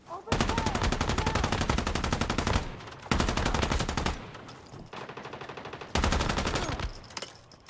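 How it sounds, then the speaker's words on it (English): A light machine gun fires long sustained automatic bursts in the video game Once Human, loud and close, with a short pause between the first and second bursts, a quieter gap later, and a final burst. "let's use the LMG again"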